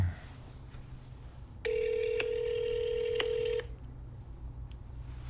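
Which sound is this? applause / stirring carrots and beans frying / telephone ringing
telephone ringing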